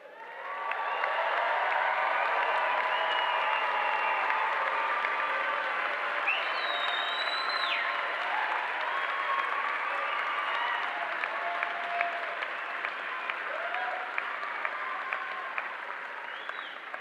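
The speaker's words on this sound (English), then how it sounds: "let's give our graduates a round of applause" Sustained audience applause mixed with cheering and whistles fills a graduation commencement ceremony, a dense steady roar of clapping from a large crowd that holds evenly for the whole stretch.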